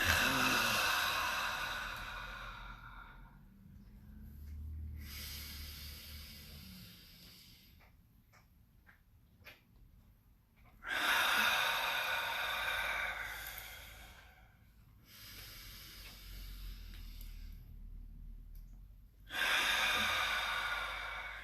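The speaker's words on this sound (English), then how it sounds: "You're inhaling all the way up, palms together, exhale." Slow, deep breaths during a yoga practice, long airy inhales and exhales alternating in a steady cycle with quiet gaps between, close and fairly soft with no talking.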